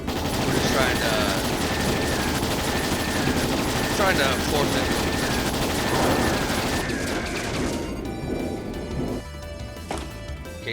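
Dense bursts of gunfire and mechanical clatter in Trails in the Sky SC run continuously over loud music, with a voice briefly speaking near the end.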